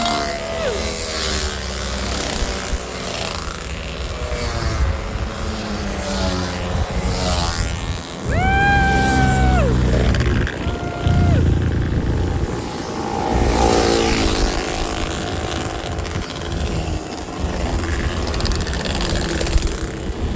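Loud, continuous engine roar with revving pitch sweeps as Yamaha RXZ motorcycles pass close by at a Terengganu toll plaza, droning throughout.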